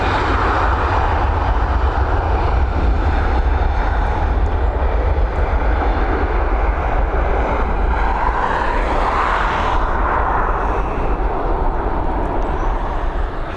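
A jet airliner takes off from Dublin Airport, its engines producing a loud, steady broadband roar that holds through the whole stretch with a slight swell near the end as it climbs away.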